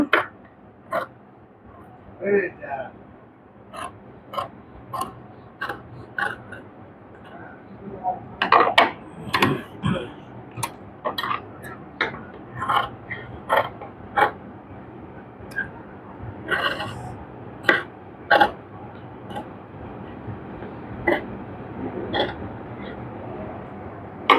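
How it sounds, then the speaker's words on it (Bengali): Scissors snip through fabric around the neckline of a ready-made dress after sewing, making many short, crisp cuts spaced irregularly in a quiet room, close to the microphone. "সেলাই করার পর এখন আমরা ভিতর দিয়ে এরকম করে কেটে নিব"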